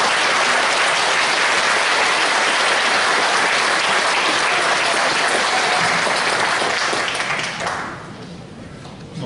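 A church audience at a police Christian mission praise contest claps in welcome as a pastor comes forward. The loud, dense applause holds steady for about eight seconds, then thins out and fades near the end.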